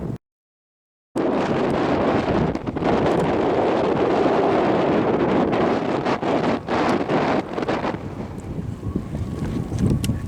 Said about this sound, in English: Wind's blowing. Y'all can't hear me.